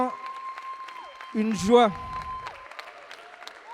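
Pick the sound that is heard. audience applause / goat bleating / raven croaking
audience applause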